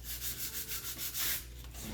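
Rhythmic back-and-forth sanding on chalk-painted wood, close and scratchy, with quick regular strokes and a low steady hum underneath.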